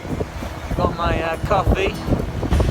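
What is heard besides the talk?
wind at sea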